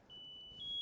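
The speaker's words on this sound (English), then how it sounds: "The pack starts to alarm." A firefighter's PASS alarm device sounds a single steady, high electronic tone that holds for under a second, faint and alone.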